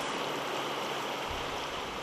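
The flooded Nooksack River, spilled over its banks across the Sumas Prairie in Abbotsford, BC, rushes in a steady, close broadband hiss with a low rumble swelling near the end.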